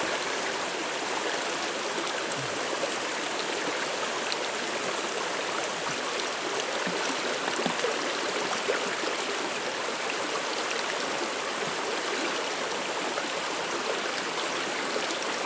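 A mountain stream in the Catskills rushes steadily nearby, a continuous broadband hiss and gurgle of flowing water with no pauses, heard alone without voices.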